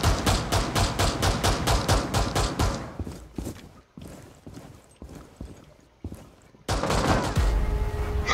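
Gunfire in the Rainbow Six Siege video game: a rapid automatic burst of loud, close shots, then scattered single shots and another dense burst at the end.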